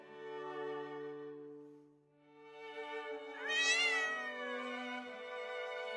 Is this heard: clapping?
no